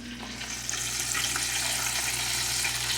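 Fish frying in hot oil, a steady broadband sizzle that holds evenly throughout with a low hum underneath and no talking.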